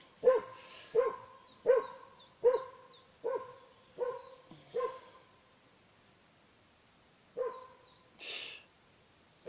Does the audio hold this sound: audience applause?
no